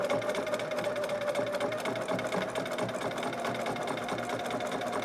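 A sewing machine runs continuously and close up, stitching off a fold on a fabric dragon or unicorn hood in a steady, even buzz.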